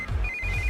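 A telephone rings with a steady electronic tone for under a second, fairly clear over a low rumbling background in a Hindi-dubbed action movie scene.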